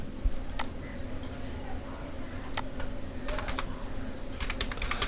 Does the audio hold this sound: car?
no